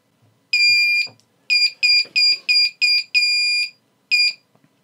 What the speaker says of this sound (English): that was just the buzzer initializing, as it always does